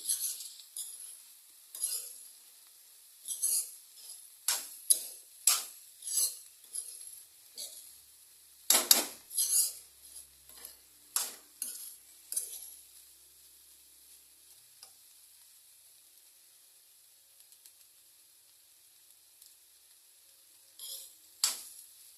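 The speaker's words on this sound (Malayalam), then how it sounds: "രണ്ട് മിനിറ്റ് കഴിഞ്ഞ് മൂടി തുറന്ന് ഒന്ന് ഇളക്കി യോജിപ്പിക്കാം" Green bean thoran being stirred in a pan after the lid comes off, with a series of short scraping and clinking spoon strokes over a faint sizzle, some strokes bunched together and then a long quiet stretch near the end.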